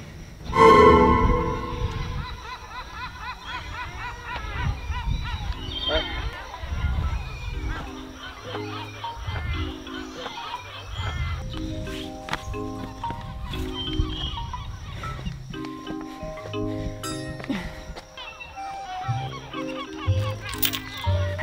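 Geese honk at the end of a tunnel on a trail, repeated nasal calls that start loud and close and then continue through the scene at a moderate level, with other bird cries mixed in.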